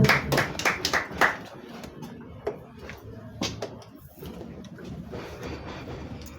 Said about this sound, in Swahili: Tumpigie Jacqueline makofi anapokuja